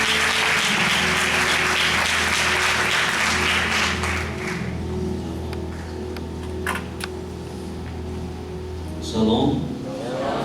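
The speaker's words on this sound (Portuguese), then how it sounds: "Vamos aplaudir o Senhor." A church congregation applauds, a lively burst of clapping over a sustained organ or keyboard tone that fades out after a few seconds, leaving the held chord and soft room noise.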